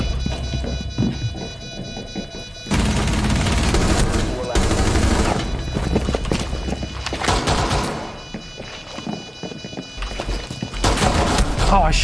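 Video game gunfire in a tactical shooter match: rapid automatic bursts and single shots crackle loudly in clusters with short pauses, close and sharp, over a busy game soundscape.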